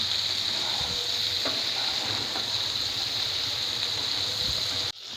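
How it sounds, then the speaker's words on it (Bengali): Potatoes frying in a pan for aloo dum make a continuous close sizzle with faint stirring scrapes, steady and unbroken, with no voices. "এবার আলুগুলোকে আমি একটু ভেজে নিচ্ছি"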